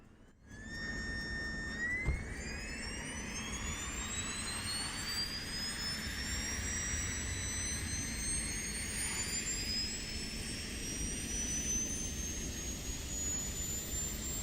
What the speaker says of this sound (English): So let's start the APU.